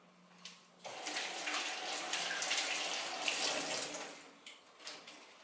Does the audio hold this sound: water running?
yes